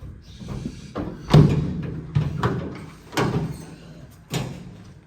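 A door on a 1971 K5 Blazer is worked open: several close, hollow metallic clunks and thuds, some sharp and some dull, spaced unevenly over a few seconds with faint scraping in between.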